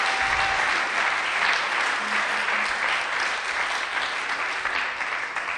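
A church congregation applauds the Lord for his servant with sustained, dense hand-clapping that fills the room, loud and steady throughout, with a few faint voices mixed into the crowd.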